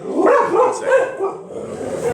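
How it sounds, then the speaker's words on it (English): Several dogs bark and yip close by in a loud, overlapping cluster of barks, and one or two brief words are spoken over them. "Apologies for my dogs. They always do that."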